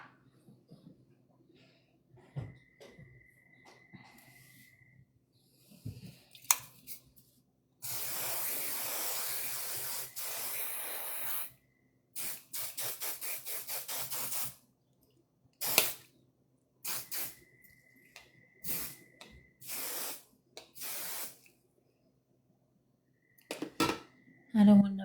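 Hairspray hisses from an aerosol can onto hair in a long burst of several seconds, followed by shorter spurts, with quiet room noise and a few clicks between.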